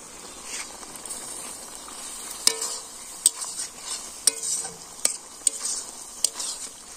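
Garlic paste fries in a pan with a steady hiss while a utensil stirs it, giving sharp metallic scrapes and clicks at irregular intervals, close and clear with no talking.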